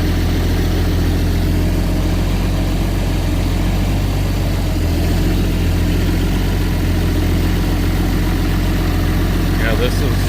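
A forwarder machine's diesel engine runs steadily at a loud, low idle with a constant rumble while a dialysis filter cart is hooked to its hydraulic system; a voice speaks over the engine.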